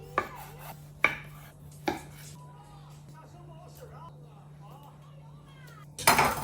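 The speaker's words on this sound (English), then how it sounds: "chop them up, and toss them with cauliflower" Knife chopping microwaved small potatoes on a board, a few sharp distinct chops spaced apart with a steady low hum underneath and a clattering burst at the end.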